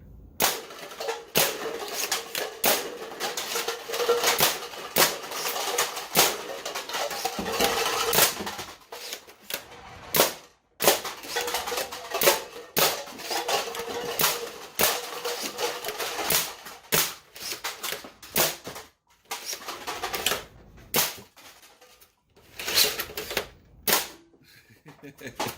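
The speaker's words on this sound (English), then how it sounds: "Just to get a feel for the rate of fire and the amount of Mega darts you can throw down range with this thing" A Nerf Mega Caliburn blaster firing Mega darts in rapid succession, loud sharp snapping shots repeating quickly with short pauses between bursts, close to the listener.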